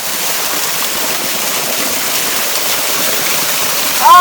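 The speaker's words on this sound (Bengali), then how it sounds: "ছোট ঝর্ণা বাট অনেক বেশি ফ্লো পানির স্রোত অনেক বেশি" A small waterfall in the hills of Meghalaya, India, roars with a strong, steady rush of water, loud and continuous throughout.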